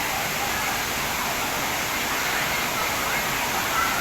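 Water pours steadily at Thirumoorthy waterfall, a dense, even rushing roar that holds at one level throughout, close and loud with no pauses.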